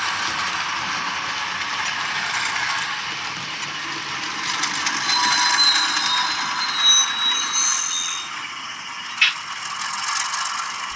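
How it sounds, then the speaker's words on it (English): Brake flange squeal effect from a sound decoder in a Bachmann RS-3 model diesel locomotive fitted with a TCS WOW sound unit, a thin high-pitched metallic squeal and faint ratcheting mechanical noise over a steady hiss, ending in a short sharp click. "Notice the realistic brake flange squeal when the engine was stopped."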